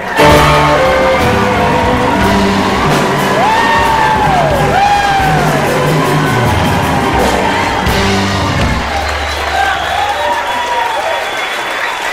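A big crowd at a live concert in Chanute, Kansas cheers and applauds, with loud, steady clapping mixed with whoops and yells that fill the whole stretch.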